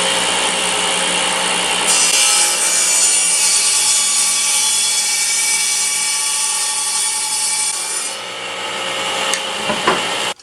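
A blade being run repeatedly along a wooden threshold for a laundry room, giving a loud, continuous high-pitched scraping and whining cut that holds for about eight seconds before tapering off with a few brief clicks.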